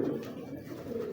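A Kalu Baloch breed pigeon gives a soft, low, throaty coo, brief and fairly faint, with no other sound prominent.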